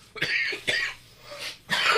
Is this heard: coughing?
yes